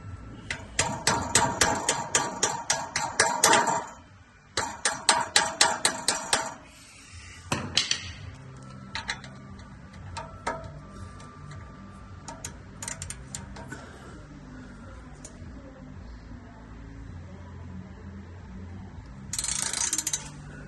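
Screw extractor worked into a stuck fastener during a Ventrac 4500Y fan and alternator belt replacement, giving bursts of close metallic ratcheting clicks and tapping, then scattered lighter clinks and a final short ratchet run.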